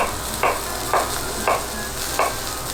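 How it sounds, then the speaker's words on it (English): Steady sizzle of potato-crusted halibut frying in a pan, with a few soft scraping or stirring bursts at regular intervals, close and moderately loud, no voices. "We're hearing it sizzling. Exactly what we want it to do."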